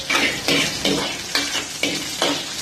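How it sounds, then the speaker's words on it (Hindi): Ginger and green chili are sautéed in a few spoonfuls of oil. Six regular, close scraping strokes of a utensil sound over a continuous sizzle, and no one talks. "इसके अंदर ऐड कर देंगे हम जिंजर, ग्रीन चिली। इसको अच्छी तरीके से सौटे करेंगे।"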